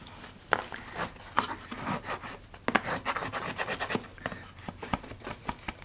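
Fabric being rubbed down onto the wooden board of a stacking box, giving a steady close-up scraping friction with sharper rasping strokes repeating throughout, no voices.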